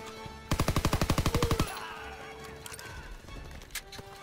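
Rapid burst of gunfire in the World War II shooter Call of Duty WWII, about a dozen loud, evenly spaced shots in quick succession, then a busy tail of scattered battle noise and distant clatter.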